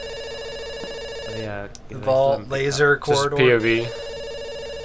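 A telephone in an empty room of the game Dr. Langeskov, The Tiger, and The Terribly Cursed Emerald rings with a repeated tonal trill, steady before and after a stretch where someone talks over it.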